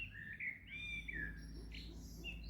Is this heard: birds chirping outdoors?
yes